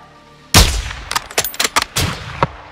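A sharp sniper rifle shot cracks out loud in Call of Duty: Modern Warfare II, then a quick scatter of fainter shots and metallic impacts follows over the next two seconds.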